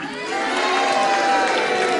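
Wrestling crowd cheering and shouting in a loud, dense roar from a large audience, steady and sustained throughout, with clapping blended into the noise.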